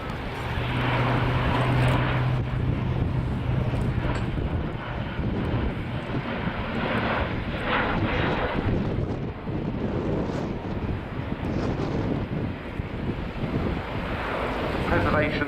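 An Airbus A400M military transport aircraft flying a slow display pass gives a steady, loud propeller-engine rumble mixed with wind buffeting, under a commentator's voice.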